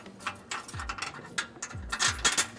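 Bolt and spacer pulled on fish wire through a hole in the frame of a 2009 Smart ForTwo during a U-Haul trailer hitch install: quiet metallic clinks, scrapes and short knocks, close and irregular, no talk.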